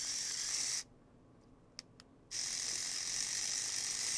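A DSPIAE electric reciprocating sander buzzes with a steady high-pitched whine, stops for about a second and a half with a couple of faint clicks, then runs again at the same even pitch.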